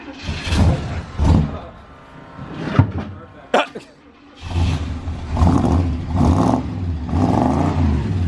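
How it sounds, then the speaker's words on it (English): A 1995 Chevrolet K2500 Suburban tow rig with a 6.5L engine revs up in loud bursts, with a sharp carburetor backfire pop in the middle, and people talk over the running engine. "It had a carb backfire."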